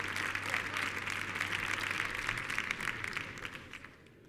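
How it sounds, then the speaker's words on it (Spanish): A studio audience on a Spanish-language variety show applauds a musical guest, with a dense, continuous patter of clapping that fades away near the end, accompanied by a faint low hum. "Fuerte el aplauso para ellos."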